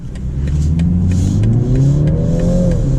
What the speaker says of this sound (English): So accelerating on the highway, we still have a really good 0 to 60 time.